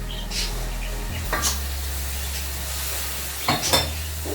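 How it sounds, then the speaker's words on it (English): Tomatoes, puree and spices land in sautéed onions for an okra masala, sizzling steadily in the pan with two clanking bursts of a spoon stirring and scraping. "So now we're going to add in the tomatoes."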